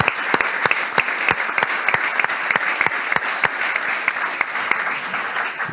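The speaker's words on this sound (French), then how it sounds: "Je vous propose qu'on applaudisse" Audience applause for local elected officials at a civic event in Nîmes, a steady, full round of clapping with sharp individual claps standing out, loud and sustained throughout without speech.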